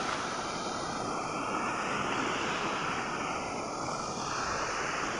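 A broad, steady roar of rushing flood water from Illikkal fills the scene near the Vakakkad bridge over the Meenachil River, loud and continuous without pause, like a swollen torrent surging past.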